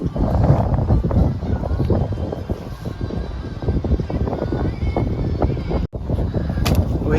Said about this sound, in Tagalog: So guys, it's so windy here.